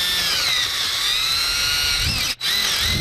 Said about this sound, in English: To drill this one, and if your bits are sharp, they're going to grab